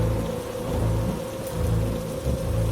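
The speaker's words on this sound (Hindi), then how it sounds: "उस रात तूफान अपनी पूरी रफ्तार में था।" Heavy thunderstorm with steady loud rain hammering down and deep rolling thunder rumbling repeatedly underneath, continuous and close, no voices.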